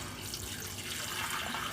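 Water pours steadily into a pot holding two cups of rice, a close continuous splashing rush, with no one speaking.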